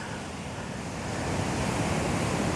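Ocean surf with a fair swell rolls onto Karon beach on a breezy day, a steady broadband wash that grows slightly louder toward the end, with some wind buffeting the microphone.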